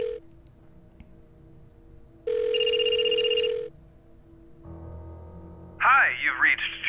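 Phone ringing from inside a trash can in a point-and-click adventure game, heard as one loud ring burst of about a second before fading, set against soft tonal game music, with a warbling sound near the end.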